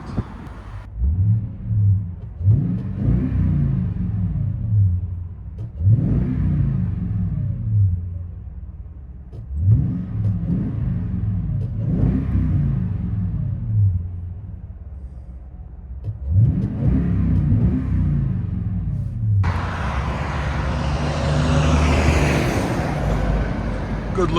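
A 2021 Toyota Tundra 4x4 with a 5.7L V8 and Borla ProXS exhaust, heard from inside the cab, gives a series of deep rising revs in rhythmic bursts, then a steadier roar as it drives.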